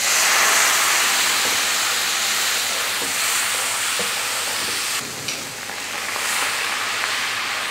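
Milk is poured into butter, crushed garlic and onion browned in a pot for white sauce pasta, giving a loud, steady hiss and sizzle that carries on alone with faint stirring.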